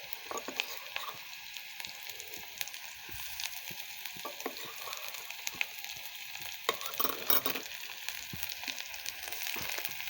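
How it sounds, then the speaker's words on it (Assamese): Ginger garlic paste frying in oil in a pan, giving a steady close sizzle with scattered pops and crackles throughout, no talking. "এতিয়া অলপ গোল্ডেন ব্ৰাউন হোৱালৈকে মানে আদা নহৰু গোন্ধটো যোৱালৈকে ভাজি থাকিম"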